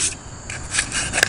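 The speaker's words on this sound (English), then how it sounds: "Just gonna give it a quick wipe down with the sandpaper." Sandpaper rubbed lightly over a smooth wooden axe handle gives soft, close scraping strokes in short irregular bursts.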